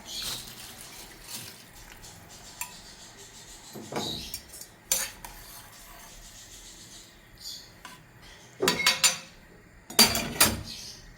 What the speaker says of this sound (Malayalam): വെള്ളം തിളച്ച് വന്നിട്ടുണ്ടെങ്കിൽ നമുക്ക് അരി കഴുകി വെച്ച് ഇതിലേക്ക് ഇട്ട് കൊടുക്കാം.